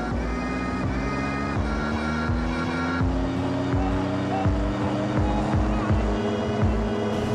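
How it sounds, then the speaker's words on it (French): A Royal Enfield motorcycle engine thumps steadily while riding, recorded up close on board, with a constant loud exhaust drone and rhythmic low pulses and gear changes throughout. "pour essayer d'avoir aussi le son de la moto de Dominique"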